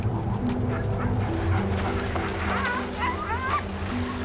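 Expedition sled dogs on polar ice whimper, yip and bark in a steady, overlapping chorus, close and fairly loud, with whiny rising cries over a low constant background.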